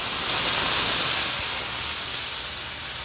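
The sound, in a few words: steak searing in hot grapeseed oil in a pan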